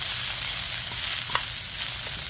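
Onions for steak fajitas sauté in a pan, a steady hissing sizzle that stays up close throughout, with a small stirring clink partway through and no talking.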